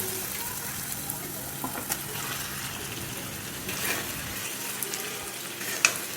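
Fried eggs added to spiced oil masala in a pan and sizzling there, a soft steady hiss with a few faint scrapes and one sharper clink near the end, fairly quiet and without voices.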